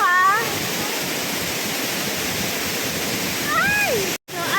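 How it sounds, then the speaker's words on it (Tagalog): A man-made waterfall at Jurong Bird Park gives a loud, steady broadband roar throughout, with short tonal bird-like chirps near the start and end and a brief dropout near the close. "And siyempre, a waterfall."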